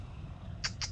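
A house cat gives two short, high meows close by, quick in succession over a low background hum.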